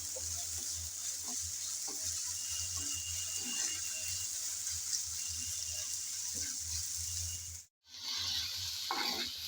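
Onions fry with salt in a pan, giving a quiet, continuous sizzle, with soft stirring scrapes scattered throughout and a brief drop-out near the end.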